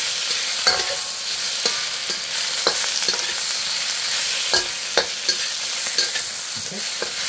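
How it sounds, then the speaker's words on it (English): Pad Thai with chicken being stir-fried in a pan: a constant bright sizzle with scattered scrapes and clicks of the spatula, close and steady, no voices. "the reason why you stir frying it is because you want all the ingredients to be evenly cooked"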